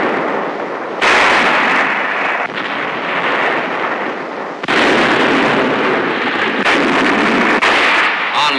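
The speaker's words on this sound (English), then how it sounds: "The United States Navy hurls thousands of shells into enemy positions." Archival recording of US Navy ships shelling positions at Okinawa, with loud repeated booming blasts and sustained roaring bursts that cut in and out over several seconds.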